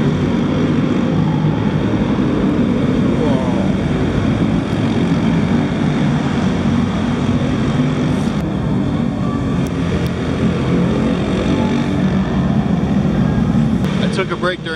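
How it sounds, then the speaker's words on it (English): A Zamboni ice resurfacer runs on a hockey rink during game intermission, its engine a loud, steady low drone that holds for the whole stretch with faint arena noise around it. "Hey look, Zamboni."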